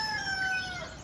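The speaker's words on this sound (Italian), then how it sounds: "il gallo stanotte ci fa tribulare" A rooster crows once, loud and fairly close, in a single sustained call that carries through with no voices over it.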